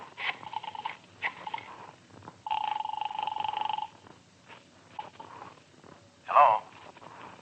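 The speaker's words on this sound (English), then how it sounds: "Can I use your phone?" A telephone rings in an old-time radio noir detective drama: one sustained buzzing ring burst stands out among quieter scattered sounds, with a brief louder noise near the end.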